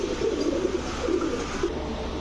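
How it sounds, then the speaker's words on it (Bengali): Low, soft cooing from a red checker racer pigeon hen repeats in several short murmurs over a steady background hum, with no talking. "এখন দেখাবো রেড চেকার রেসার একটা মাদি কবুতর"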